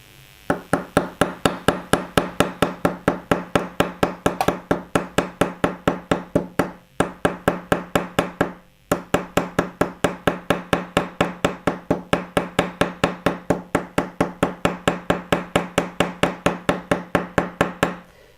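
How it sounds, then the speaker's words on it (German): Steady, rapid blows from the narrow face of a hammer ring out close by on a bronze rivet head, dozens of sharp even strikes with two brief pauses, no talking. "Man verwendet dabei die Schmalseite des Hammers."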